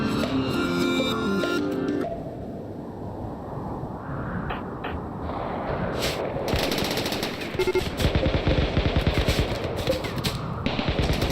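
Massed obsidian mini turrets fire in the video game Rimworld, with rapid rattling bursts of gunfire that build into dense, loud volleys toward the end.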